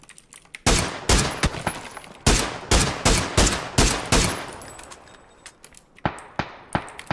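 Gunfire in PUBG during a duo squad match: a rapid string of loud, sharp shots in bursts, each ringing off with a metallic tail, pausing briefly before a few more scattered shots.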